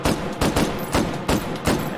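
A hand-cranked Gatling gun fires in the H3VR game in five evenly spaced, loud booming shots, roughly one every 0.4 seconds, each with a short rumbling tail.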